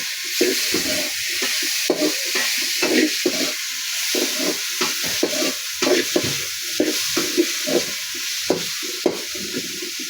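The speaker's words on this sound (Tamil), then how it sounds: "வதங்குறதுக்கு கொஞ்சோண்டு உப்பு போடணுங்க. அப்போ தக்காளி வதங்கும்." Tomatoes sautéing with a little salt in a pan, giving a steady sizzling hiss with repeated scraping stirring strokes throughout, close and fairly loud, with no talk.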